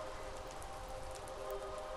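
Steady rain in a video game hisses evenly and softly throughout, a continuous wash with no voices over it.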